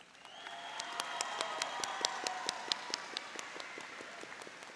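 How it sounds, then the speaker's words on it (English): Applause for the Mar Vista Academy promoting class of 2024 at a school promotion ceremony, a quiet, somewhat distant crowd clapping with distinct individual claps picking out a rough rhythm, swelling then tapering. "Let's give a round of applause."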